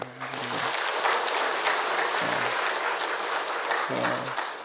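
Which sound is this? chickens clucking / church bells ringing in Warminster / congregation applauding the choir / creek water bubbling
congregation applauding the choir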